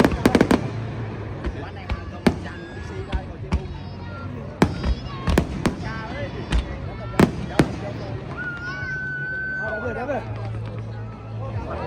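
Fireworks burst at the Tonami fireworks festival in Toyama, a run of sharp, loud bangs and crackles at irregular intervals over a murmuring crowd, with people talking nearby and a whistling launch near the end.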